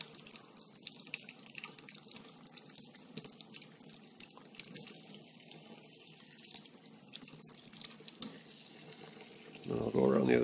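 Tap water running over a heated glass bottle being cut, a quiet steady trickle with faint clinks, ending in a louder gush of flowing water close by.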